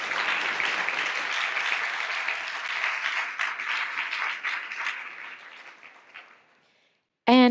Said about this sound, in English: Please give a round of applause for the reporter.